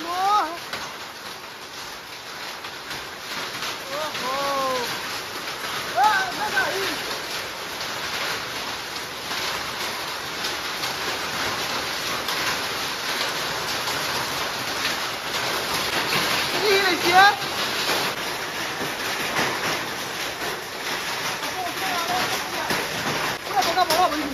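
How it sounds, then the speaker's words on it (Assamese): Heavy rain with hail pounds down steadily through a storm that is damaging homes and areca nut palms in Assam, a dense, loud wash of sound throughout, with voices calling out over it and birds faintly heard. "এইফালে বৰ শিল বৰষুণ দি আছে"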